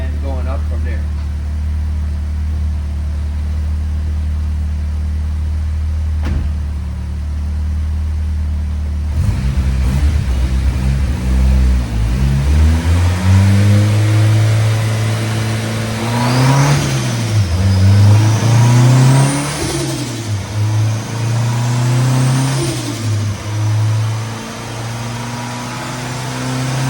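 A 400 hp Nissan SR20 on pump gas with new injectors and a flex fuel sensor revs on a dyno, first idling low, then climbing and dropping in loud repeated pulls with turbo whine rising above.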